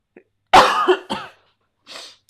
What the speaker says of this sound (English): I don't know where this cough has come from